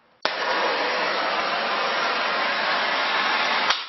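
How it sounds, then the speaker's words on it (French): A trigger-start gas blowtorch roars as a steady, loud hiss, lit abruptly and running evenly for about three and a half seconds before cutting off, while heating a copper pipe and brass fitting for soldering. "prenez votre chalumeau, donc il est réglé, puisque moi c'est un chalumeau avec une gâchette."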